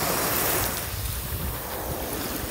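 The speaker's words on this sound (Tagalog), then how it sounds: "Dito lang tayo sa baybay. Baybay dagat." Sea waves washing continuously onto the seashore, a loud broadband roar with heavy wind buffeting the microphone and no talk.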